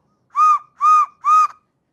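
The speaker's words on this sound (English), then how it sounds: "I want a whistle." Three short, evenly spaced whistle toots, each bright and steady, sounding loud and close with silence between them.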